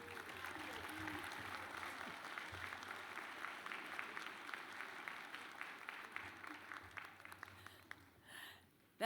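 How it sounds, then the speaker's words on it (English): A crowd at a university Founders' Day celebration applauds at length, a thick wash of clapping with faint voices mixed in, thinning out near the end before a sudden sound cuts in. "Another round of applause for Mr. McGee"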